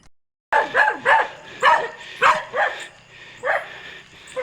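A dog barks about eight times in a loose, uneven rhythm, loud and close, with brief pauses between barks.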